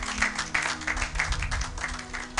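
A church congregation applauding, a dense steady patter of many hands clapping through the whole moment, fairly close and even.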